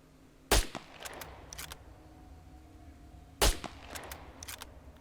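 Two sharp sniper rifle shots in a video game, about three seconds apart, each a loud crack followed by mechanical bolt clicks over low background hum.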